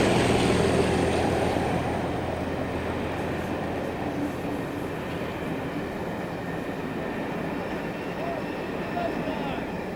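Class 37 locomotive 37424 rumbles past near Bath hauling a Saturday Bristol to Weymouth passenger train, a heavy continuous diesel drone and rolling wheel noise, loud and fairly close throughout.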